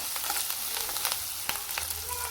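Boiled cabbage stir-fried in a pan with chili and salt, a steady close sizzle and crackle with scattered sharp pops and clicks of stirring throughout.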